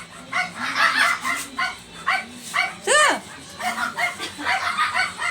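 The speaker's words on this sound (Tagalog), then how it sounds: "Ingay po ng mga aso namin." Several pet dogs bark repeatedly in quick, uneven bursts nearby, with a higher yelp in the middle and a whine between barks.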